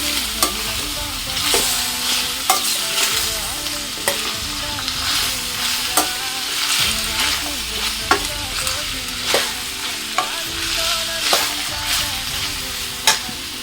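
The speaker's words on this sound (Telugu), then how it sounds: "బాగా కలుపుకొని కిందకి పైకి మొత్తం కలుపుకోవాలి, ఆయిల్ అంతా పట్టేలాగా." Sliced ivy gourd (tindora) stir-fried in oil in a pan, with a steady close sizzle throughout and a regular scrape-and-tap of the spoon every second or so as the pieces are tossed, no talk.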